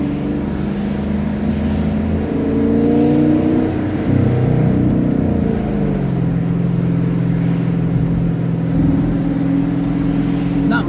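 A car being driven, heard from inside as a steady, fairly loud engine drone that swells slightly partway through and runs throughout.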